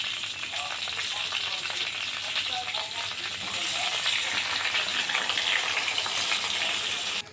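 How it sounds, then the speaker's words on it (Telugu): Cumin, dry red chillies and mustard seeds temper in hot oil for a gongura chutney, making a loud, continuous close sizzle and crackle that holds evenly throughout and cuts off abruptly at the end, with no speech. "జీలకర్ర ఎండుమిరపకాయ ఆవాలు చేసుకుని తాలింపు వేసుకుంటున్నాను నేను గోంగూరని."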